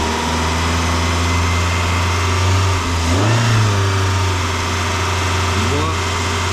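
Car engine in a head gasket check, idling then revving up briefly twice, close and loud over a steady idle hum.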